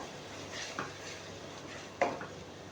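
Cumin, coriander and turmeric are stirred into ridge gourd in a pan, with soft scraping strokes, a couple of louder utensil knocks and a faint sizzle underneath.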